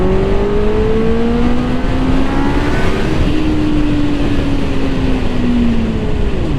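A Honda Hornet 600 motorcycle pulls hard from low revs, its engine note climbing steadily and loudly in two rising sweeps, close and continuous with wind and road noise underneath.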